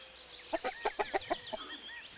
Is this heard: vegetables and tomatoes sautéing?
no